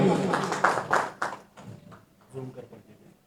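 Audience applause rings out at the opening ceremony of a T10 cricket championship trophy, a dense burst of clapping that fades after about a second and a half before a voice takes over.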